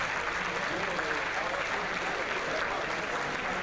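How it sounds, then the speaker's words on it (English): Crowd cheering and applauding steadily at an IFSC Climbing World Cup lead semi-final in Kranj, a broad continuous roar of claps and shouts with commentary voices mixed underneath. "And the crowd is cheering"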